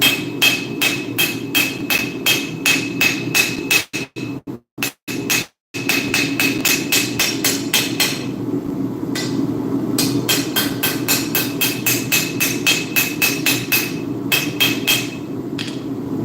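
Rapid, relentless hammer blows on hot steel at the anvil, dozens of bright ringing strikes in a fast even rhythm, with a brief broken pause near the start, loud and close over a low drone.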